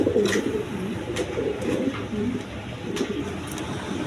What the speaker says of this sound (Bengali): এখানে এক পেয়ার হাই ফ্লাইং গিরিবাস কবুতর আছে, 2টা বাচ্চা সহ আছে